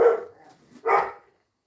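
Two loud, close dog barks separated by a brief pause, with faint noise between them.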